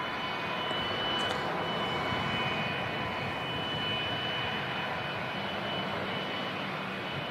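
An Etihad airliner in Green Line livery taxis out near Terminal 2 at Manchester Airport, a steady loud engine roar with a high whine held throughout.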